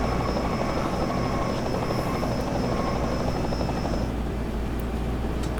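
Helicopter circling overhead during a lap-one pileup at Daytona in the NASCAR Racing 2003 video game, a loud steady rotor drone with a constant whine that continues without pause and shifts slightly near the end.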